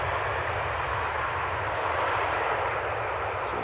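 A KLM airliner arriving at Amsterdam Schiphol Airport, with a steady, loud jet engine roar that holds evenly throughout and no voices over it.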